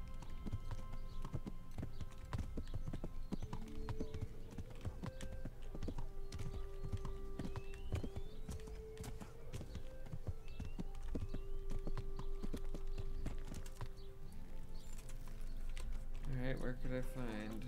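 A heavy-duty pony's hooves clip-clop at a steady walking rhythm in Kingdom Come Deliverance, faint and continuous, with a sustained musical tone and occasional voices in the background.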